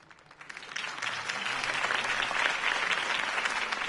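Crowd applause following a campaign speech for Harvey Dent, a dense wash of clapping that swells in during the first second and holds steady and loud to the end.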